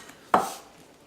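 A knife chops green onions on a board with one crisp, close chop that fades quickly.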